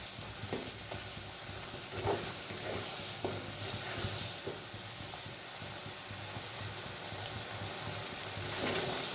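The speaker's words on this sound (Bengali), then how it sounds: "কিছুক্ষণ কষিয়ে নেবো মশলাটা, সর্ষে পোস্তটা আমি একটু কষিয়ে নেবো ভালো করে।" A mustard and poppy seed spice paste fries in a pan while being stirred, giving a steady close sizzle broken by scraping stirring strokes, with no talking.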